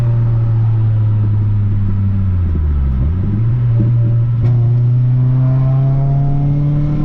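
An Acura RSX engine drones steadily while racing Mustangs, dips briefly in pitch, then revs back up and holds a rising, strained note, loud and close throughout.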